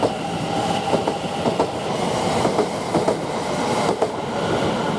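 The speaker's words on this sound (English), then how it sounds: "Now we've got another Great Anglia coming in, which is the 1339 service from London Liverpool Street to Southend Victoria" A Greater Anglia train rolls into Shenfield station on a London Liverpool Street to Southend Victoria service, a steady loud rumble with faint rhythmic wheel clacks throughout, no voices.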